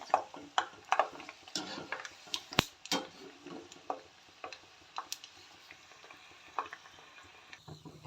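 Peanuts fry in oil while being stirred, making an irregular series of crisp ticks and pops over a faint sizzle, close by, with a voice speaking in places.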